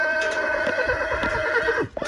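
A horse whinnies loudly and close by on a farm, one long wavering neigh lasting nearly two seconds before it breaks off, with no voices over it.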